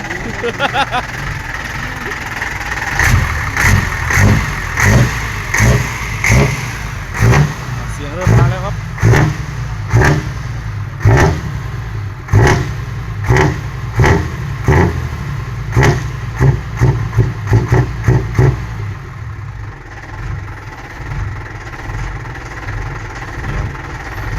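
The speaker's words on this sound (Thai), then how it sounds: "เร่งทีเนี่ยไอพุ่งเลยครับผม" A modified Rocky dump truck engine revs repeatedly in short, loud bursts, with a rumbling idle between throttle blips, and goes on to a steadier idle near the end while a person talks over it.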